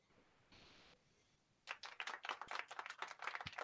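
Small, thin applause effect of a few hands clapping briefly at close range, quiet and unenthusiastic, following a short faint hiss.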